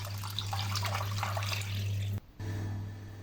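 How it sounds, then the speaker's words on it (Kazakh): Water poured over meat settled in a pot for kholodets, seven litres in all: a steady close pour over a loud low hum, cut by a brief gap near the end. "Мен осындай 7 литр су қостым."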